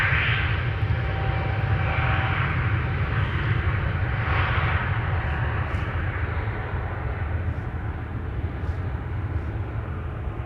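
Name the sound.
Aegean Airbus A320neo jet departing Amsterdam Schiphol Airport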